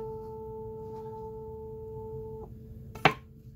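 A tuning fork pitched at 1100, the second of a harmonic series, rings as a pure steady tone for over two seconds, then is damped, followed by a single sharp knock on an IKEA table.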